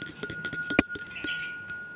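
A small bell is struck repeatedly in quick, uneven succession, about eight bright metallic rings close to the microphone, each fading quickly, with no voices.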